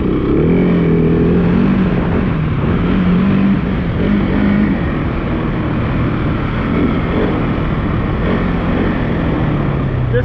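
A KTM 701 Enduro single-cylinder motorcycle picks up speed, its engine droning loud and close the whole way through with a rising, steady pitch and heavy wind rush over it.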